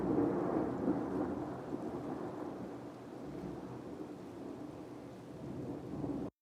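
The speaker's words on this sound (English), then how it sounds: "In this case, I use like a thunder ambience with some rain." A thunder ambience with rain, used as an atmospheric sound effect in an Afro House remix, rolls as a dense, continuous low rumble with steady rainfall hiss, loud and unbroken throughout.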